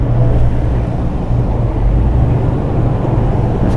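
A car engine runs just after starting, a loud, close, steady low rumble with buffeting noise and no talk.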